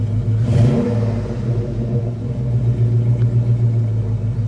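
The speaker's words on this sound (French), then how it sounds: "Ça fait 2 mois qu'elle n'a pas tourné, on tourne la clé et ça démarre" LS V8 engine in a buggy cranks and catches, then settles into a loud, close rumbling idle with rising revs, a deep throaty roar filling the space without speech.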